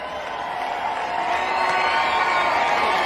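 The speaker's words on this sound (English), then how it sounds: "The sold-out crowd here at Phoenix." A sold-out crowd roars at Phoenix Raceway during the NASCAR Cup Series season finale, a dense, steady wall of cheering that swells slightly louder after the first second and holds.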